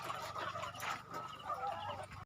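Young chickens on a chicken farm cluck repeatedly in a close, busy chorus of short overlapping calls, with no talk over them.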